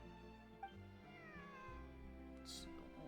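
A cat meows in a video game, a short meow over a steady musical background with a brief higher squeal near the end.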